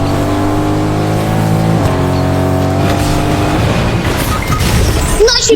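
Car engine in a battle-royale shooter match, a steady droning motor with gear-shift steps and tire squeal building toward a skid, loud and continuous with no talk.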